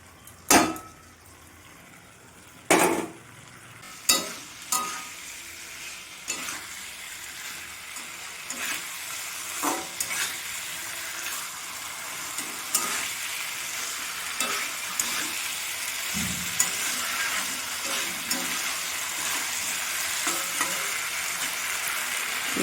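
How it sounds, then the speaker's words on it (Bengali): Pointed gourd sautéing in a pan for a Bengali vegetarian potato curry, with sharp clanks of a spatula early on, then a steady sizzle and frequent stirring scrapes throughout. "এরপরে আমি পটলগুলো ঢেলে দেবো, দিয়ে আমি ভালো করে কষিয়ে নেব"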